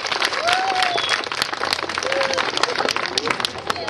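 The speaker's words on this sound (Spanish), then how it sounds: "Un aplauso, por favor." Crowd applauding at a school event with lively, uneven clapping and some scattered cheers and whistles, the clapping thick and close throughout, with voices mixed in among the crowd.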